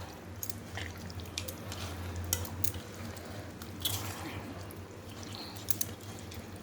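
Chicken liver being stirred with ginger garlic paste and garam masala, giving soft, wet squishing and scraping with a few light clinks of a utensil against the pan, close and fairly quiet.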